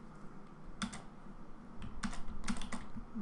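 Keys tapped on a computer keyboard to type a single word, a few quick clusters of clicks spaced over a few seconds against a quiet room hum, fairly close and moderately loud.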